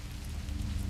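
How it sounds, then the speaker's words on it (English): Rain falling in the horror video game Lamentum, a soft continuous hiss with a low rumbling bed, fairly faint and steady with no voices. "It's still raining, like when I arrived at Grau Hill"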